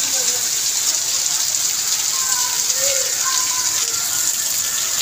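Heavy monsoon rain pours down in a constant, loud hiss of water drumming on surfaces close by, with a few voices faintly audible beneath the downpour.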